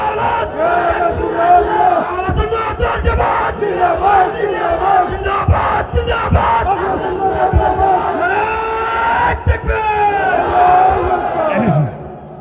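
A large crowd at a Ramadan religious gathering in Moulvibazar chants a slogan in unison, a loud, continuous roar of many voices filling the space, close and sustained until it cuts off at the end.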